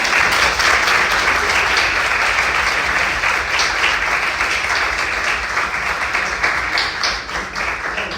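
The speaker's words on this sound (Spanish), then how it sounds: "quiero otro aplauso para él" An audience at an open community talk series claps together in sustained applause, dense and fairly loud throughout, tapering slightly at the end with no speech over it.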